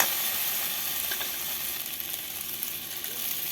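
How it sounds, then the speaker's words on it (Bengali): Steady, close sizzling of vegetables frying in a hot pan as soaked sago is added, continuous and even, with no voices. "আমি এবার ভিজে রাখা সাবুগুলো এর মধ্যে আমি অ্যাড করে দিলাম।"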